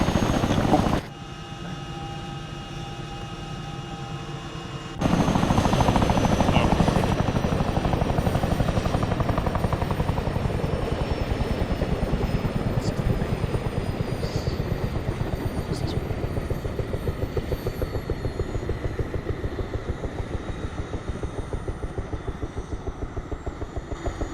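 A helicopter in the military game Arma 3 spools down, its loud rotor and turbine whine settling into a steady, slowly fading drone with a sudden louder surge near the start, no one speaking.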